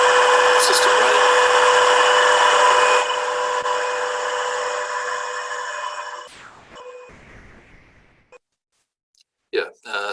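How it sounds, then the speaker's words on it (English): An electric air racing motor runs on a lab dynamometer with a load motor, giving a loud, steady high whine with strong tonal hum that fades and winds down, followed by silence and a brief clatter. "it's running on the dyno in the lab, and we can load that"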